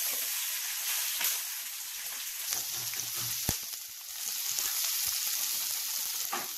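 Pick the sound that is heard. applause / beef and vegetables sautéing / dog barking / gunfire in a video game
beef and vegetables sautéing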